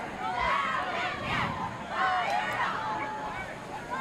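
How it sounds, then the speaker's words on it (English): Crowd murmur and babble in the stands at a Marian Catholic versus Hanover Area high school football game, a steady mid-level hubbub with swells of overlapping voices and no single clear speaker. "good crowd on hand"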